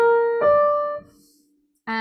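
Two piano chords stacked in major thirds, forming augmented triads that split the octave evenly: one sustained chord rings and is replaced by a second, decays into near silence, then a third struck chord enters loudly at the end.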